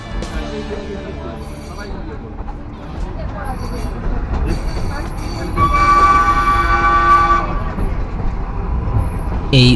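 Ooty to Coonoor toy train on the mountain railway, running with steady rolling rumble and rattle of the carriages, a sustained horn tone rising over it near the middle, and people talking in the background.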